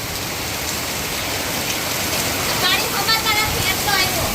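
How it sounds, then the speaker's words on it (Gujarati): Heavy rain driven by wind pours down in Navsari, a dense, steady roar of water hitting surfaces that fills the whole clip at close range. "જોરદાર વરસાદ પવન સાથે નવસારીમાં ધોધમાર વરસાદ ચાલુ આજે થઈ ગયો છે મિત્રો."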